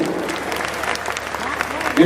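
An audience at a mushaira in Barabanki, Uttar Pradesh, applauding in a dense, continuous patter of clapping that swells louder near the end, with some voices mixed in.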